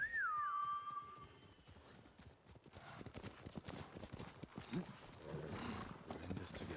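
A horse in the Ghost of Tsushima video game gives a high whinny at the start, followed by rhythmic hoofbeats and game ambience, with some voices in the mix.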